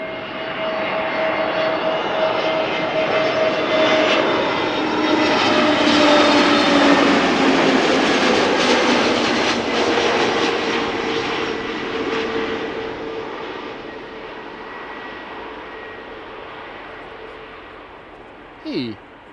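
An Emirates A380 jet airliner at Amsterdam Schiphol Airport rumbles loudly and continuously while taxiing nearby, its engine roar swelling and slowly fading, with a brief knock near the end.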